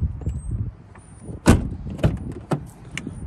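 The rear door of a 2010 Mazda Tribute is opened, with a sharp latch clunk followed by a few lighter clicks and rattles against a quiet background.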